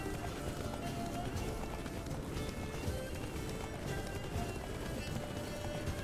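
A horse gallops hard in pursuit in The Witcher 3: Blood and Wine, a steady rapid hoofbeat rhythm running under a continuous wash of wind and movement noise, fairly quiet overall.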